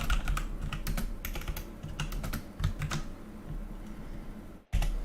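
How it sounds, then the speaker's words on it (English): Loud, rapid typing on a computer keyboard, a dense clatter of sharp key clicks up close, slowing briefly near the end before a final thump. "This is such a loud typing experience."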